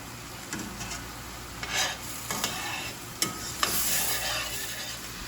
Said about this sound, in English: this is already getting nice and brown just because we have all of those juices from the beef